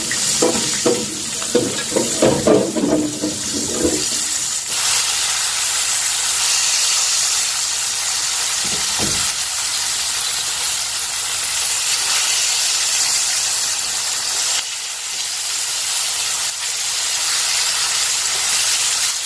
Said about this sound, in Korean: 어느 정도 기름이 달궈지면 이제 삼겹살을 넣어서 튀겨줍니다